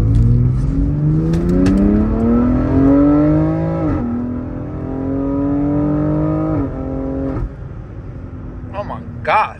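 An S58-powered BMW pulls hard through second gear, its engine note climbing steadily in loud, close revving sweeps with quick shift breaks and a rising exhaust roar, with a voice talking over it.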